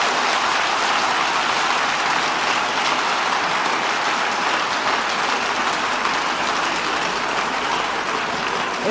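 Steady, moderately distant crowd applause at a 1983 Israeli pre-Eurovision song contest, a continuous even wash of clapping with no voices standing out above it.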